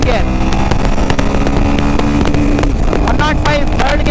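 A Royal Enfield Himalayan 450 motorcycle accelerating through first gear during a speed test, its engine note loud and close under rushing wind, with a rider talking over it.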